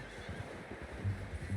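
In Red Dead Redemption 2, a horse whinnies in short bursts over a steady hiss of ambient game noise, faint and low in level.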